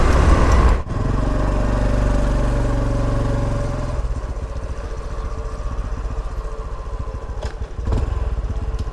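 Honda Trail 125 motorcycle cruising on a country road, its small single-cylinder engine putting out a loud, close, steady throbbing hum with wind rush, briefly dipping before settling into a slightly lower drone.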